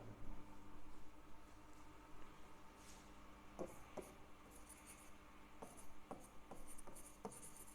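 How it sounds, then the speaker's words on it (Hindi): Chalk or marker scratches across a classroom board in short, faint strokes and taps, fairly close against a low background hiss, with no talking. "एक और सेंटेंस इसको हम समझने के लिए लिखते हैं"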